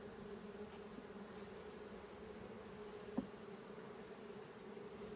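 Honeybees swarm around an open hive frame, their steady drone sustained and close with a hum that holds level throughout, and a single faint tap midway.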